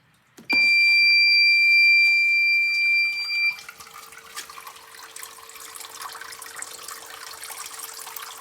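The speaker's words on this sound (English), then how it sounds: "it should kick in the battery backup pump, and it should set off alarm when it does" A shrill electronic alarm beeps loudly for about three seconds as a battery-operated backup sump pump kicks in, then the pump hums and water trickles steadily in the background.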